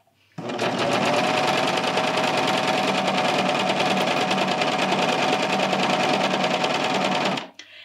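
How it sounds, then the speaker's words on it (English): A serger whirs steadily at high speed for several seconds while stitching a T-shirt, a dense mechanical buzz that starts and stops abruptly. "And then much like using a sewing machine, I just chain off the neckline"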